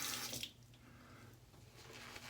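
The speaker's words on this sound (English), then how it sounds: "A little bit more water here." Water is added to a bowl of tallow-based Bay Rum shaving soap lather, a brief splash and trickle at the start, then a quieter wet hiss.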